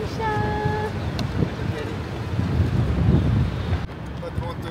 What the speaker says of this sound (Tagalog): Ang lakas ng hangin guys, kaya ang lamig-lamig.